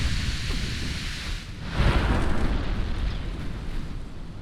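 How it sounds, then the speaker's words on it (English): Naval guns boom in the warship game Ultimate Admiral Dreadnoughts, a dense rumbling barrage of distant blasts with one heavier swell midway, all under a constant roar. "there's a lot of guns shooting at me right now"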